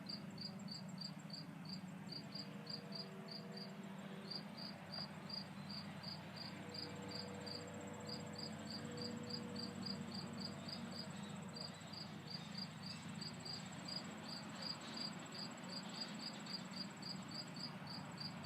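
Crickets chirp steadily outdoors in rapid, evenly spaced pulses that repeat throughout, set over a soft low background hum with no voices.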